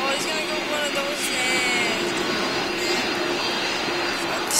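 Airplane engine in a Roblox video game, a steady droning roar that runs loud and unbroken throughout, with faint voices mixed underneath.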